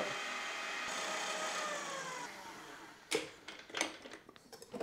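An electric mixer whips egg whites for a génoise-style choux sponge, a steady whirring drone for about two seconds that then quietens and stops, followed by scattered clicks and taps of utensils against the bowl.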